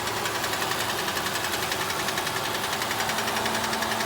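A failing CVT transmission in a 2013 Nissan Sentra gives off a steady, fast ticking under a constant, loud running drone that stays even throughout.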